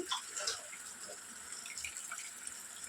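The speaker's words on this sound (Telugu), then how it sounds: "సో ఇలా వాటర్ మొత్తం డ్రైన్ చేసుకుంటూ వేసుకోవాలి." Water draining off washed, finely cut cabbage, a steady splashing trickle that runs alone and fairly close, with a few stronger splashes near the start.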